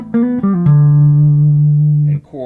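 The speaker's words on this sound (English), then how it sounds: "which would be a solid state PA thing that would have a glassy kind of sound like this" An electric guitar plays through a Mackie portable solid-state PA monitor, giving a glassy, clean tone. A few quick plucked notes slide into one long sustained note, and a short pick scrape comes near the end.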